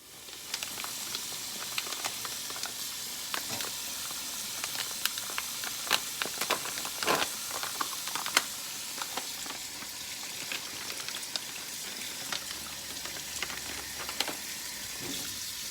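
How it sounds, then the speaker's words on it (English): White onion sautés in a pan with a continuous crackling sizzle, dense pops and spits scattered throughout at moderate, steady loudness. "I will saute these up."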